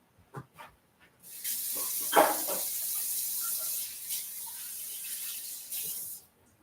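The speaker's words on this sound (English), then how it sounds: "let me rinse my hands" Hands are rinsed under a kitchen faucet during pot pie preparation: a few handling clicks, then a steady hiss of running water for several seconds before it shuts off.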